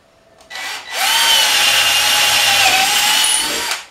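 A power drill boring a bolt-sized hole through a wooden board, a steady loud whine that rises as the bit spins up and then holds through the cut before stopping, close and alone.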